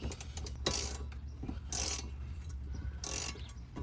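A bolt on a rear underseat storage box in a Chevrolet Silverado or GMC Sierra truck being tightened: three short bursts of ratcheting clicks, close and fairly loud, with quiet gaps between.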